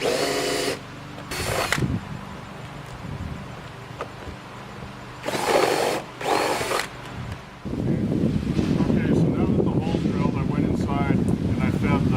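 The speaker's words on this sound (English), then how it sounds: "I'm just going to drill a 3/4 inch hole." Bursts of a power drill whirring as it bores a 3/4 inch hole, two short pairs of runs, then a louder continuous rough noise like wind or handling.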